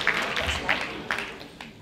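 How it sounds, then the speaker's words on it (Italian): Brief applause from an audience at a Christmas music, dance and theatre show, a few sharp claps standing out over a murmuring hall and a voice speaking through it. "grande applauso anche, no?"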